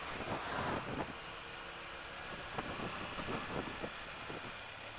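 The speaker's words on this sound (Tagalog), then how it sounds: "Lakas ng hangin, no?" Strong wind roars and buffets the microphone continuously on a road trip to Infanta, Philippines, with a few gusty thumps and rushing noise throughout.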